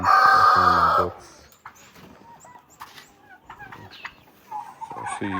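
Silkie chickens in a poultry box at a small farm, a loud close burst of clucking up front, then softer scattered clucks and shuffling before the calls pick up again at the end.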